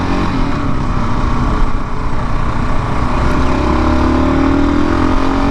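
A 2018 Kawasaki KLR 650 motorcycle rides along the I-75 highway, with its engine droning steadily under loud, continuous wind rush throughout.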